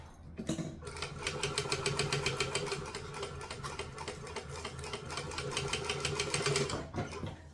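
A sewing machine stitches fabric slowly around a curve while making a troll costume, giving a fast, steady, even clatter that runs for about six seconds, close up and with no talking.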